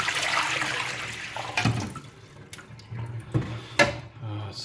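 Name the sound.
water poured out of PUR water filter pitcher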